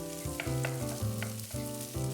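Leftover rice stir-frying in oil with preserved mustard greens, mushrooms and carrot, a close steady sizzle broken by repeated scraping strokes of a spatula against the wok, with no voices.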